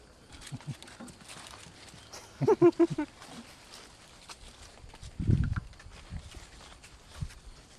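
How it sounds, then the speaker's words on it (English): Donkeys walking up to their food on a rescue farm, with a short run of soft hoof thuds near the middle and a heavier scuff later, over quiet outdoor background. "And now the donkeys are coming to see their food."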